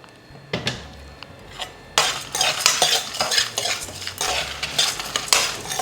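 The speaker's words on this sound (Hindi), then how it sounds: "तो अभी आप कुछ आवाज़ तो आ रही होगी, क्रैकल हो रहा है धीरे धीरे" Spices crackle and pop in hot oil in a pan while sambar is cooked. A spoon knocks once, then loud uneven sizzling and crackling runs on up close with occasional metal clinks.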